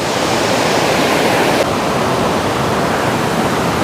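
River water rushing steadily past at a fishing spot, a loud constant broadband roar like a waterfall or rapids, close and unbroken with no talking.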